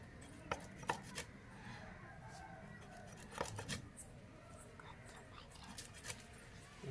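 Hard, sun-dried fish being chopped into thin pieces with a knife: a few sharp, close chops spaced irregularly over a quiet, low background murmur.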